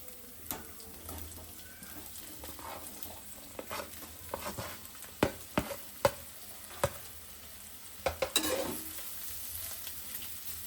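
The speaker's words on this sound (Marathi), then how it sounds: "आता हे चांगले आपल्याला मिक्स करून घ्यायचे ते मिरचीमध्ये हे बघा बटाटा मस्त आपण तेलात आणि मिरचीत परतून घेतलाय" Chopped potatoes stir-frying in oil with green chillies, a soft continuous sizzle punctuated by irregular sharp spatula knocks and scrapes against the pan, close by with no talking.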